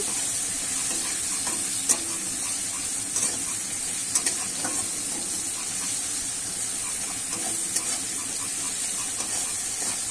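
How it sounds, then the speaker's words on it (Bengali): Continuous loud sizzling and hissing of prawns frying in a pan, with occasional scraping clicks of stirring. "চিংড়ি মাছটা কিন্তু একটু কিন্তু ভাজা ভাজা করে নেব"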